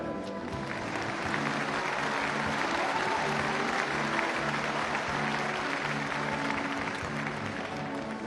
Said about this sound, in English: The applause for Miss Brazil, number 11, Maritza Summer